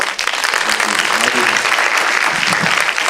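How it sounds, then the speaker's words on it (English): Steady, dense applause from a large film festival audience after a screening, loud and continuous throughout, with a faint murmur of voices mixed in. "I think it would be great to give one final round of applause for this extraordinary film"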